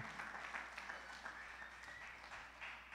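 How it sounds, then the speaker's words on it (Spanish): A church congregation applauds, and the clapping comes through faint and distant but continuous for a few seconds, with a low steady hum underneath. "Denle un fuerte aplauso al Dios Todopoderoso, denle un aplauso a Jesucristo"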